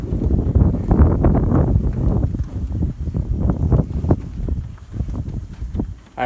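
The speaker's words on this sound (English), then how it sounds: "The wind's blowing like crazy." Strong wind buffets the microphone outdoors before a storm, giving a loud, rough, uneven rumble that gusts and fades continuously, with scattered rustling and soft thumps mixed in.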